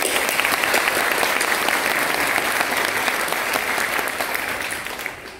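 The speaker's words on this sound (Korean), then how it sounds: "큰 응원의 박수를 한번 보내주시기 바랍니다." A church congregation at an anniversary and ordination service gives loud, sustained applause, many hands clapping together, tapering off near the end.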